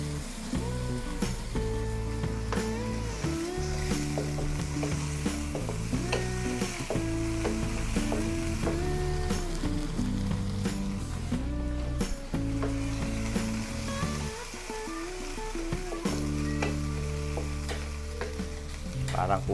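Beef tripe callos with tomato sauce sizzles in a pan and is stirred, a steady frying crackle running continuously under loud background music.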